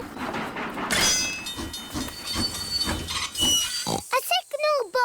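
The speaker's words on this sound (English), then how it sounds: "Clickety-clack, clickety-clack, the train is on the track." A cartoon train runs along the track with hissing steam and rhythmic chugging, ending in bright whistle-like tones.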